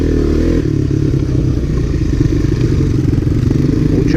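A 1985 Honda Big Red ATV with an MBRP exhaust runs on a trail ride, its engine a loud, close, steady throbbing drone with clattering from the machine and terrain.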